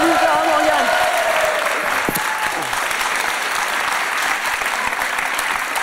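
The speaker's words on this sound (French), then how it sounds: "On l'applaudit encore très fort." A large audience applauds loudly and steadily at a live French talk-show taping, dense sustained clapping that fades a little toward the end, with a voice heard briefly at the start.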